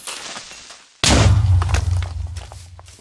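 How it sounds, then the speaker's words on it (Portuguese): A sudden loud Minecraft explosion booms in after a second of quieter noise, with deep rumble and crackling debris that slowly fade. "Nossa, a explosão foi imensa."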